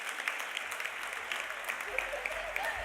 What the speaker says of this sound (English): a round of applause for all these guys